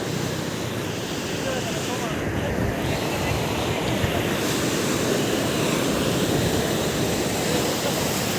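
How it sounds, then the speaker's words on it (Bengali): Sea waves surging and breaking on a sandy beach at Cox's Bazar, a steady broad roar of surf and wind that stays loud and continuous throughout, with no pause between waves. "ঢেউ আমার দিকে আসছে।"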